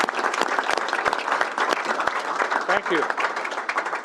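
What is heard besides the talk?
audience applause welcoming a speaker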